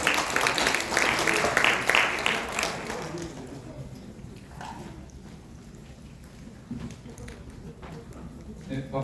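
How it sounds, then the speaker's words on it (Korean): Applause from an audience at a high school admissions information session, welcoming a school admissions head: a burst of clapping that fades after a few seconds, followed by quieter room noise and a speaker talking. "박수를 한번 맞이해 주시기 바랍니다"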